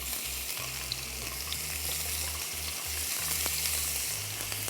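Tomatoes and onions sizzle on a grill pan beside Persian kabab, a steady close crackling hiss with low bumping and shifting as pieces are arranged, moderately quiet and continuous.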